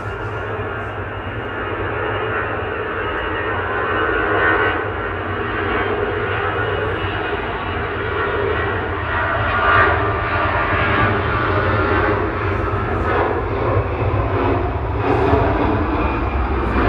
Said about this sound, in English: Heading off now to Paris Charles de Gaulle, EasyJet